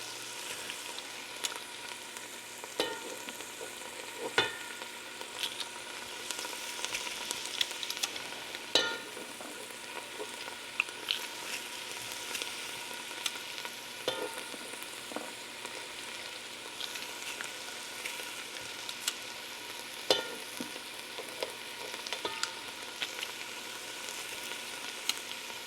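Pressed garlic sizzling in a pot for beef stew, a steady crackling fry with scattered clicks and scrapes from stirring, fairly quiet and with no voices.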